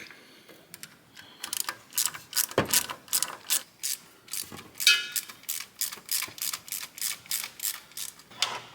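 Rapid ratchet clicks tighten a radiator hose clamp on a 1972 Ford Mustang, coming in quick, evenly spaced bursts of close, crisp clicking with no talk.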